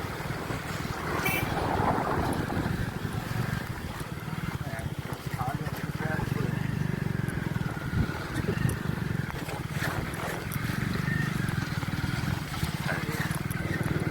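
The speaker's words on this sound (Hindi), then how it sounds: "बारिश बहुत तेज हो रही है" Heavy rain pours outdoors in a steady, dense wash that continues unbroken, with a low rumble and occasional louder splashes throughout, and no voices spoken over it.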